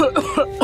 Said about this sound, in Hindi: 3-4 दिनों से खांस रहा है